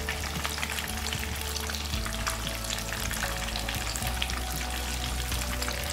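Marinated masala fish frying in oil, a dense, steady crackling sizzle that runs continuously and close, with a low hum underneath and no voices.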